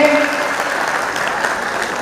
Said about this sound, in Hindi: एक बार उनके लिए जोरदार ताली आप लोग बजाएं।